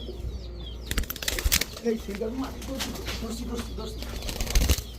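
Silver pigeons, a male and female pair, flap their wings in bursts of quick, close-up fluttering over steady background noise, with someone talking throughout.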